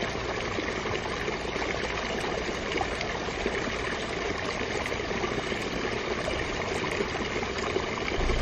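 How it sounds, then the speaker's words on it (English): A babbling brook in Mammoth feeding into Lake Mary over giant logs, a steady broadband rush of running water, close and constant throughout with no pauses. "Would this be considered a babbling brook?"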